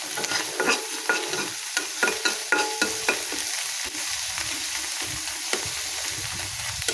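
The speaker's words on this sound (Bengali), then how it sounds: "চাপা শুটকি ভর্তার জন্য আমি আর এক চুলায় কাঁচামরিচ আর রসুনটা ভেজে নিতেছি।" Green chilies and garlic frying in oil on a stove, a steady close sizzle with repeated stirring scrapes and taps of a utensil against the pan, no voices.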